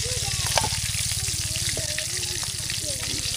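Pangas fish fillets frying in hot oil in a pan at a village outdoor cooking setup, giving a steady loud sizzle with intermittent scraping and flipping clatter, close up and with no talk over it.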